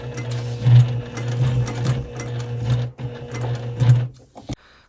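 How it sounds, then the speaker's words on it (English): A sewing machine runs steadily while stitching a diagonal line across fabric toward the opposite corner of a square, with a continuous close hum and brief speed surges before stopping near the end. "I'm going to sew diagonally to the opposite corner."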